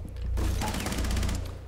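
Rapid automatic gunfire from a video game rattles in a dense burst of quick shots lasting about a second, loud and close with no voices.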